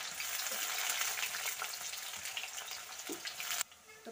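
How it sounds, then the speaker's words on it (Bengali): Raw onions frying in hot oil for a fish curry, a steady bright sizzle that runs without pause before cutting down sharply near the end, close and alone. "তেলটা কিন্তু গরম হয়ে গেছে। তো এবারে আমি দিয়ে দিচ্ছি কিছুটা কাঁচা পেঁয়াজ।"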